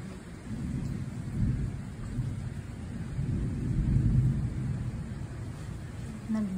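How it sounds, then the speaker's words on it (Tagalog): Low, rumbling thunder rolls through a heavy downpour during a thunderstorm after very hot weather, a steady dense wash of rain with swelling rumbles, no clear crack, continuous and fairly loud. "Kidlat, kulog."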